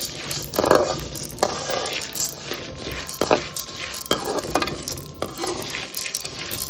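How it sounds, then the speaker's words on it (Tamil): Half a cup of urad dal dry-roasting in a pan for sesame gun powder, stirred with a metal spoon that scrapes and clinks against the pan in irregular strokes, alone and close. "அரை கப் உளுத்தம்பருப்பு இதை நல்லா ஃப்ரை பண்ணிக்கணும்"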